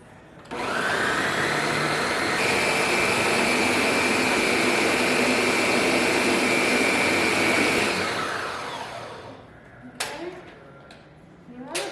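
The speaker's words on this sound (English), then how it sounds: "Blend this as much as possible." A kitchen blender purees butternut squash, carrot and ginger soup with vegetable stock, a loud continuous whirring roar that shifts pitch partway through, then winds down and stops, followed by a few knocks and clinks.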